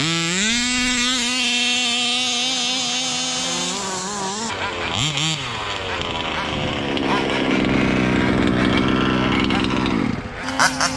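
A gas engine on a 1/5 scale Rovan Baja 5b RC car runs loudly up close, its pitch sliding and revving before settling into a steady idle.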